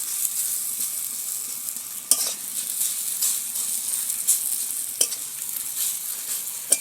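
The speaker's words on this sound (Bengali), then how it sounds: "যাতে এই বেটে রাখা চালগুলো ঘিয়ের সঙ্গে ভালো করে ভাজা ভাজা হয়ে যায়, সেভাবে বেশ কিছুক্ষণ ধরে নাড়িয়ে নেব।" Ground rice paste frying in ghee in a kadai and stirred steadily with a spatula. A close, continuous sizzle runs throughout, broken by a few sharp scraping clacks against the pan.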